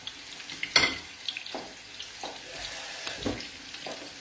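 Artichokes frying in a pan of oil in a kitchen, crisping up: a soft background sizzle broken by several short, sharp crackles and clatters at irregular intervals, fairly close, with no talking.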